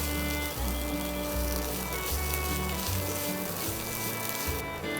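Chopped banana stem and coconut filling frying over low heat in a pan for a cutlet, giving a soft, steady sizzle with low background hum, continuous and close throughout.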